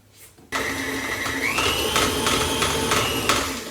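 A stand mixer starts up abruptly into a loud, steady whirring blast while mixing chocolate cookie dough, close by, its pitch rising slightly as it runs with faint rhythmic pulsing.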